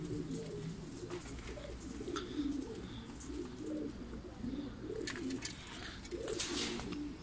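Pigeons cooing near a wire-mesh enclosure, a series of soft, rolling low coos repeating through the stretch with a few faint chirps and light background clatter, no talking.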